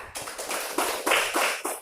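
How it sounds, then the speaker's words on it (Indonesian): Students in a classroom clap their hands together in a short burst of rhythmic, closely grouped claps, fairly near and moderately loud. "tepuk tangan"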